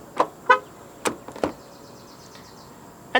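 A 2024 Proton S70 1.5T Executive gives short horn chirps as it locks through its keyless entry. Several quick, close chirps are spaced apart over a quiet background, with no talking.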